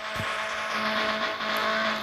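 A car engine in a video game as the car is moved a short distance, a steady hum with a faint tonal whine running throughout, no talk over it.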